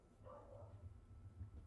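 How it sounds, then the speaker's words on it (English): A corgi barking indoors: a single short, faint bark near the start, with a low hum continuing underneath. "I just heard a bark that was not my corgi"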